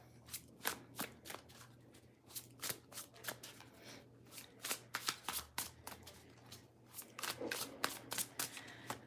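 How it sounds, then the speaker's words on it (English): Tarot cards being shuffled close by, a rapid series of crisp riffling bursts repeating in quick succession with brief pauses between. "So a little shuffle, shuffle."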